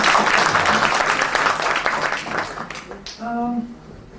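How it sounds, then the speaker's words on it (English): Audience at a Raza Foundation arts event breaking into loud, dense applause that fills the room, tapering off as a voice begins speaking over the fading claps. "a big hand of applause to"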